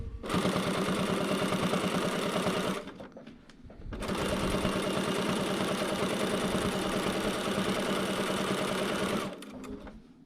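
A sewing machine stitching the minky fabric back of a zippered pillow, running in two long steady bursts of rapid mechanical whirring with a short pause between them.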